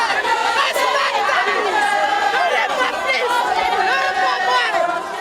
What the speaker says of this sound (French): Ils sont nombreux à vouloir toucher le corbillard, à crier merci Paul Vergès au passage de sa dépouille